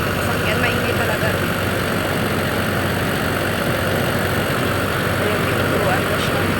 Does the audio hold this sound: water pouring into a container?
no